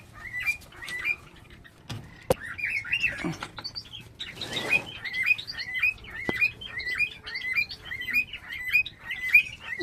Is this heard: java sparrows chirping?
yes